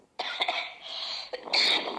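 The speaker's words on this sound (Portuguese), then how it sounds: "Desculpa pela tosse." Several sharp coughs from one person nearby, in bursts across two seconds, with a louder, longer cough toward the end and no talking.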